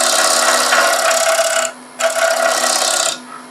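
A scraper smooths a turned wooden bowl on a spinning lathe, making a loud, close rasping scrape in two passes with a short quieter gap between them over the lathe's hum.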